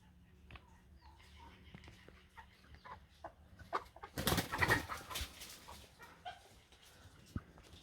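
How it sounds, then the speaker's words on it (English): Chickens kept at a jungle homestead in Bolivia cluck and call in scattered bursts, with a louder flurry of activity midway, over quiet outdoor ambience and faint voices. "This is why you keep chickens"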